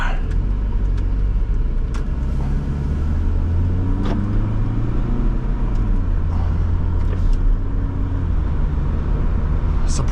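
A 2001 Chrysler PT Cruiser on a test drive gives a steady low engine and road rumble from inside the cabin, continuous throughout, with faint occasional clicks and no talking.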